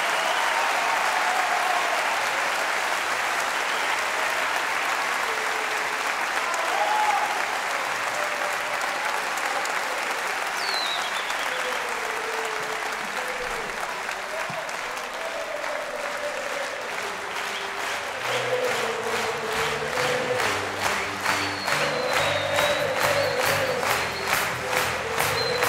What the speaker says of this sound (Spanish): Falta el aplauso de estos grandes tecladistas.